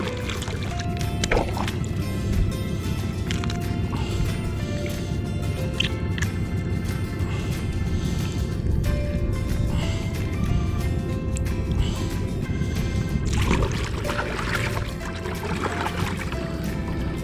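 Water runs steadily over a freshly cleaned and bled bluefish, a loud, continuous rushing splash that holds for the whole stretch with only slight surges.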